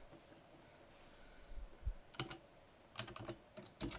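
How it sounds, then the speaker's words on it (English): Typing on a computer keyboard while entering a street address into label-printing software, with sparse clicks at first and then quick bursts of close, fairly quiet keystrokes. "going back to the text item, we type in the street address"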